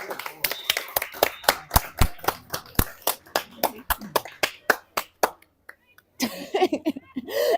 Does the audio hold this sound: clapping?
yes